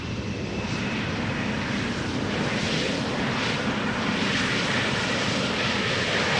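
A KLM Embraer 195 E2 jet arriving at Amsterdam Schiphol Airport, a loud sustained roar of aircraft engines with broadband rumble, steady and close for the whole stretch.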